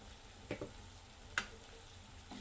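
Masala with whole spices, Kashmiri chilli powder and turmeric sautés quietly in a pan for usal bhaji, a soft low sizzle broken by a few sharp spoon scrapes against the pan.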